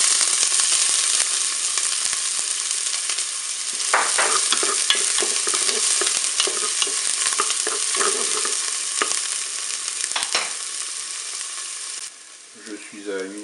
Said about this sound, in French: je vais pouvoir mettre mes oignons dans la cuve pour les faire dorer